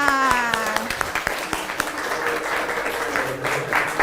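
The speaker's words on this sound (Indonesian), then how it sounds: "Oke, beri tepuk tangan." Classmates in a classroom give a brief round of applause, a burst of many hands clapping near the mic that lasts a few seconds, with some voices and chatter mixed in.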